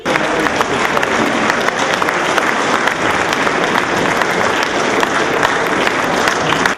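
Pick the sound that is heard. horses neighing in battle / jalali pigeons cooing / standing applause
standing applause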